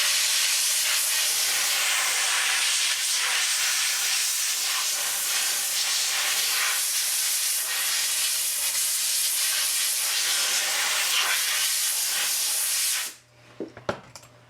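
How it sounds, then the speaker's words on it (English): Compressed air blasting over a Revell 1:72 Type VII C U-Boat plastic model kit, a loud steady hiss lasting about thirteen seconds before cutting off abruptly, followed by a few faint handling clicks. "So I'm just going to blow it off with my compressed air real quick."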